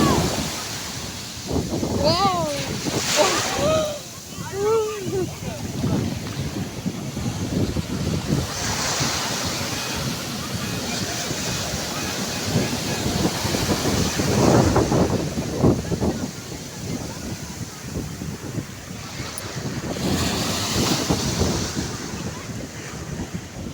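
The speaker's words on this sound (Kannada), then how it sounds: "ದೊಡ್ಡ ಸಖತ್ ದೊಡ್ಡ ಅಲೆ ಬರ್ತಾ ಇದೆ." Big ocean waves break and roll ashore at Malpe Beach in Udupi, a continuous loud surf roar with gusting wind buffeting the microphone and faint voices mixed in.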